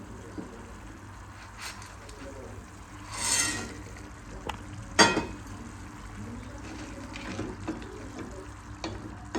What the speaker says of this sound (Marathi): मसाल्याला चांगली उकळी आली आहे। आता आपण त्यामध्ये भाजलेले सांडगे घालून घेऊया।